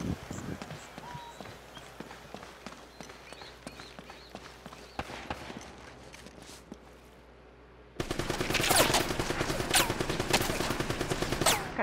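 Automatic weapon fire in the video game Uncharted comes as rapid, repeated crackling bursts. It grows denser and louder over the final few seconds.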